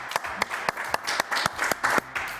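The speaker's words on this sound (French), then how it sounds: "On applaudit très fort Divine Cathy." A studio audience at a French television talk show claps loudly and close by, with steady rhythmic applause that continues for the whole stretch.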